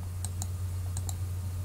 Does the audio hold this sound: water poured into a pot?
no